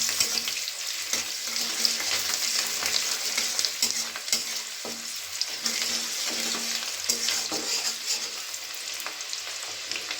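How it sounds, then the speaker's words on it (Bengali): Ginger, green chili and garlic frying and being stirred in a pan, a steady close sizzle with scraping stir strokes running through the whole stretch, no voices. "দিয়ে এটাকে খুব ভালো করে নাড়াচাড়া করে একটু ভাজা ভাজা করে নিচ্ছি, একটু ব্রাউন কালার করে নিচ্ছি"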